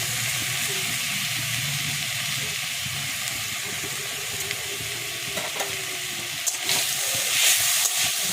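A coconut and sugar mixture for narkel naru cooks in a dry kadai, with a continuous close sizzle and hiss and occasional stirring scrapes toward the end.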